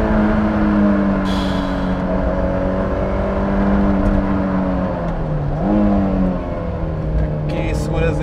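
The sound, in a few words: Honda S2000 engine revving at high RPM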